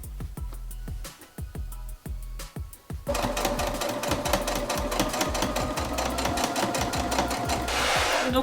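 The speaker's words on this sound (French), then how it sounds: "Donc là j'ai fini la couture." A sewing machine closes the seam of a plush toy. It starts with slow, distinct needle thumps, then speeds into a loud, continuous rattling run close by.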